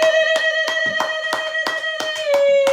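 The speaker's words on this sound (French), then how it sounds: "Acclamons plus fort pour la gloire de Dieu." Church congregation clapping in steady rhythmic beats during Sunday worship, about eight sharp claps spaced evenly, with a sustained musical tone ringing underneath throughout.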